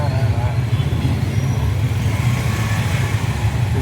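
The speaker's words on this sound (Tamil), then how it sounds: "இது டிராஃபிக்கு" Road traffic in Bangalore heard from inside a moving auto rickshaw, a steady low engine rumble and roadway noise throughout, fairly loud and continuous.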